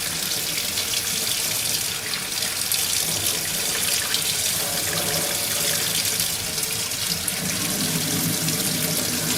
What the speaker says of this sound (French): c'est de l'eau chaude du robinet les gars